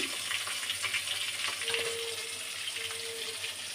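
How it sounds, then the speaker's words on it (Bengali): Fish sizzling as it fries in hot oil in a pan for a Bengali moong dal dish, a steady close crackle with soft stirring and faint clinks throughout. "আর লাল লাল করে মাছটা না ভেজে আমি তুলি না"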